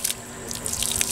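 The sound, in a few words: water running out of punctured jug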